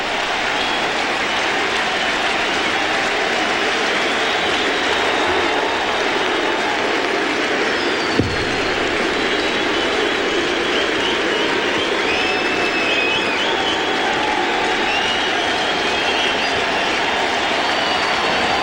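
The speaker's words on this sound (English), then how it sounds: "now what remains of the crowd rises as one" A baseball stadium crowd during a Dodgers–Reds playoff game in the ninth inning keeps up a loud, continuous roar of cheering and applause that holds steady, with whistles rising above the wash.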